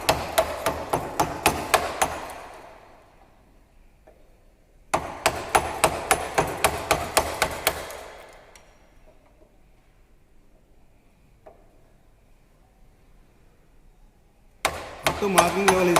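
Hammer striking a chisel to cut wood for a carpentry T-lap joint: two quick bursts of about eight sharp rhythmic blows each, a pause between them, and a few more hits at the end.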